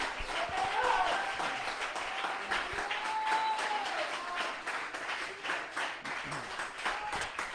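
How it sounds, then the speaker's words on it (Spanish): A church congregation claps in sustained, dense applause that holds steady throughout, with voices mixed into the noise. "Alguien que aplauda al Señor"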